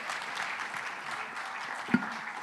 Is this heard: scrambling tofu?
no